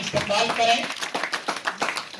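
An audience at a journalists' club anniversary ceremony claps to welcome an award recipient, a loose burst of applause mixed with someone speaking briefly over it.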